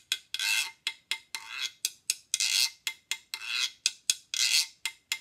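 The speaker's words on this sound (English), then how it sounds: "And what we do is we scrape it and we tap it like so." A güiro is scraped and tapped in alternation, giving long raspy scrapes between short sharp taps in a regular rhythm, close and clear with no voices.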